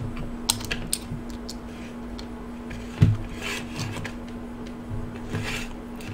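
An optical audio cable is plugged into a TV port, with faint close rubbing and small taps leading to a single soft click, over a steady low electrical hum.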